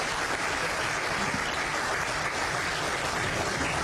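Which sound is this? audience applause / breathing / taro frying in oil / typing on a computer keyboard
audience applause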